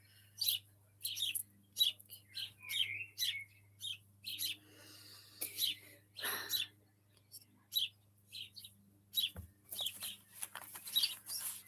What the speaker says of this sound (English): Can you hear the birds, everyone?